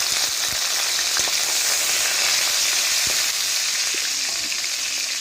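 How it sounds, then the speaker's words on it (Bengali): Chopped garlic fries in hot oil in a pan, a steady loud sizzle with occasional soft taps and stirring clicks, no talking. "এবার এর মধ্যে দিয়ে দেবো রসুন কুচি"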